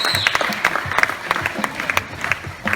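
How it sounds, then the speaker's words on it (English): Audience applause at a Tiger Island show after a tiger's jump demonstration, a steady patter of clapping from a crowd with scattered sharper claps throughout. "Let's give him a round of applause because it is a great demonstration."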